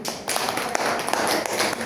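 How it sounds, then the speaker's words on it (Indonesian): A class applauding together, a dense wash of clapping that runs steadily throughout with no talk over it. "beri tepuk tangan dulu"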